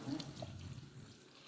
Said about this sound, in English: get your nettles out of the bag in the sink, cold water